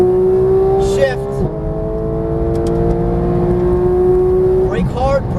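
A GT3 race car accelerates hard at full throttle, its engine note climbing steadily before two quick upshifts drop the pitch, loud and close.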